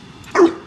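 A trained dog gives a single short, sharp bark on command, close and clear against a quiet room.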